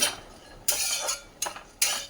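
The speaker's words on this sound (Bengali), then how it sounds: "কিশমিশটা দিয়ে একটু নাড়াচাড়া করে নিচ্ছি" Raisins and cashews being stirred in a pan for sweet laddoos, with a few sharp metal spoon scrapes and clinks against the pan over a soft background hiss, no voices.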